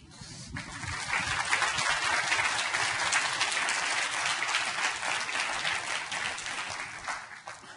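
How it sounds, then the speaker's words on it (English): Sustained audience applause fills the room after a conference talk, dense clapping rising quickly and holding steady for several seconds before thinning slightly toward the end. "Got a huge round of applause here from the crowd."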